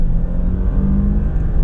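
An Audi A7 with traction control switched off launches hard under launch control, its engine a loud, steady, deep roar and rumble that holds throughout with no voices.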